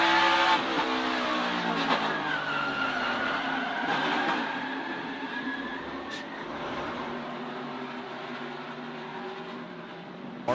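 A NASCAR Xfinity Series race car spins and slides in a crash, with tire skidding and a fading engine tone heard onboard, gradually quieting over several seconds.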